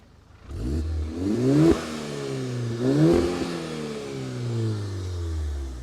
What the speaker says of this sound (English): Marco, rev the engine.